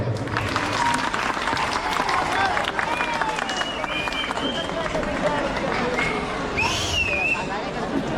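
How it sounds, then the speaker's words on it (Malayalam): An audience at a school's 123rd anniversary celebration claps loudly and steadily in a dense, continuous round of applause, with some crowd murmur underneath. "അപ്പോൾ എല്ലാവരോടും ഒന്ന് കൈയടിയോ?"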